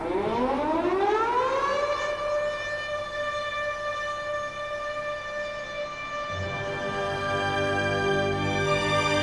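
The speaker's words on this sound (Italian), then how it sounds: "si correva nei rifugi quando suonava la sirena" An air raid siren sounds a warning of bombing, winding up in pitch over about two seconds and then holding a loud, steady wailing tone alone, with no voices.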